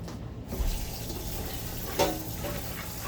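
Tap water runs steadily into a sink as almonds are rinsed under it, a close, continuous splashing rush with a slightly louder burst near the middle.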